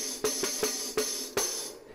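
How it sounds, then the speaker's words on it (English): A tambourine struck with the fingertips five times at an uneven pace, each hit giving a bright metallic jingle that rings briefly and then fades, close and clear. "So it makes a jingly sound like this."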